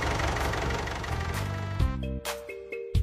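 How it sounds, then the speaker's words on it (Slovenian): A cartoon farm tractor engine rattles loudly with a dense, noisy chugging roar for a couple of seconds, then gives way to bright tonal notes. "To je traktor."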